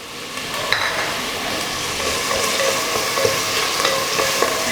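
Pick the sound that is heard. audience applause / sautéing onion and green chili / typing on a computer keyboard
sautéing onion and green chili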